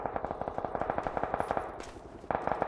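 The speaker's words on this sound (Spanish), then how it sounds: "Están disparando, le vamos a los tiros" Rapid bursts of automatic gunfire in the video game PUBG, a fast steady rattle of shots, briefly pausing before resuming.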